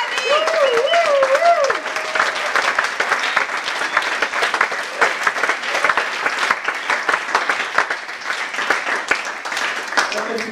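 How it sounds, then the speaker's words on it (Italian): Lively audience applause and crowd noise for the musicians after a live performance at BCMF Šmartno, with sharp claps, a brief vocal whoop or whistle at the start and scattered voices underneath. "Applauso a musicisti tutti!"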